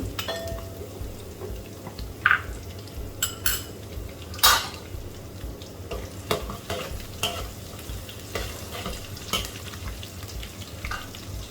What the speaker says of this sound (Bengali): আমি তেলে একটু আস্ত দিয়ে জিরে দিয়ে দিচ্ছি, তারপরে দিয়ে দিব রসুন কুচি